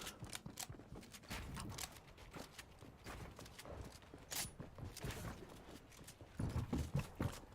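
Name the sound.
footsteps outside a build in a video game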